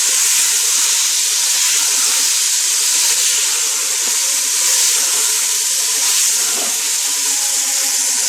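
Whole black masoor lentils fry in hot masala, giving a steady, loud, bright sizzling hiss that carries on evenly throughout with no talking.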